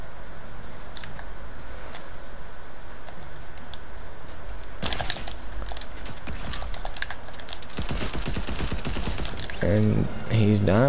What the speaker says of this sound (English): this guy hits only max damage with the charge shotgun